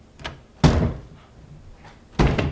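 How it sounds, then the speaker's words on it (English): A door is shoved hard against something blocking it, producing two heavy thuds a second and a half apart, with faint rattles and scuffs between them. "There's something against your door, Everett!"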